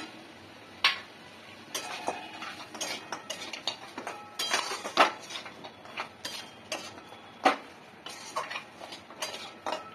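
A utensil stirs mixed vegetables and lentil dumplings in a pan, giving quiet, scattered clinks and light scrapes in an irregular rhythm.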